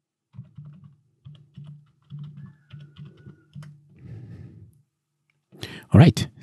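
Keys clack on a computer keyboard as a password is typed into an Ubuntu setup, in short irregular bursts of close taps, followed by a brief breathy sound near the end.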